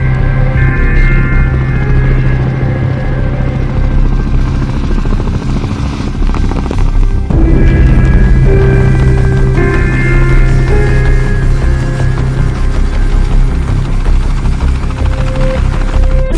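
A Shaheen 1 military aircraft comes in to land in an animated film, a loud, steady rotor-and-engine drone with a shifting whine that holds throughout, close and continuous with no voices over it.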